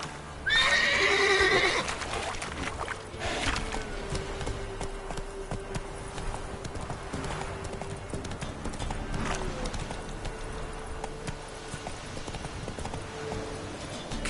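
Roach, the horse in The Witcher 3, lets out a sharp neigh at the start, then gallops on with steady hoofbeats and game ambience, no speech.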